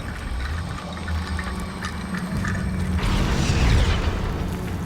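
Confringo blasting spell going off in Hogwarts Legacy, a loud rumbling boom that swells and bursts into a crackling blast partway through, over a steady game ambience.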